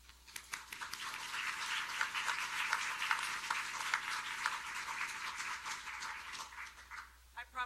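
An audience at a public lecture welcomes a speaker with sustained applause, dense clapping that swells early and then holds steady before tapering off.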